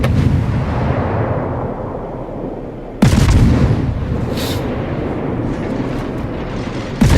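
Warship main guns in the naval game World of Warships fire in loud, booming bursts, with a sharp heavy salvo at three seconds and another at the end over a constant rumbling roar.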